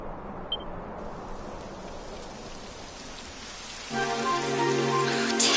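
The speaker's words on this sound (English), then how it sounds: "It would have to go and start raining, wouldn't it?" Steady rain in the video game Dragon Quest XI patters on surfaces throughout, soft and even, with a gentle musical tone joining in near the end.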